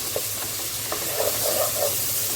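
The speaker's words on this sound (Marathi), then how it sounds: "आलं लसणाची पेस्ट अर्धा चमचा घेतला ती टाकूया याला आपण मस्त शिजवून घेऊया कांदा मस्त मऊ करून घेऊया" Onion frying with ginger-garlic paste in a pan, a continuous close sizzle with a few soft spatula taps and scrapes.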